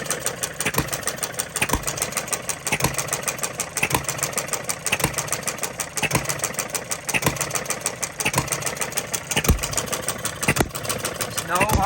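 Small Coles engine running with its battery hooked up, a steady rapid chugging with regular sharp firing knocks about once a second over a continuous mechanical whir, close by.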